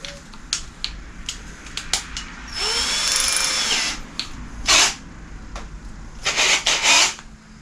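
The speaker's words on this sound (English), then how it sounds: "I'm gonna chuck it down into my drill." A power drill bores holes for a handmade bed frame, with short bursts of whirring and one longer steady run at low speed, separated by small clicks and taps, close up with no talk.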